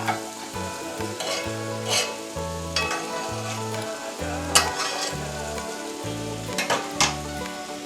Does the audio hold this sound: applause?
no